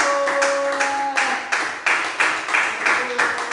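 A congregation claps to acclaim the Lord at a Thursday worship service, with dense, continuous clapping and a steady pulse, while a sustained tone and voices sit underneath.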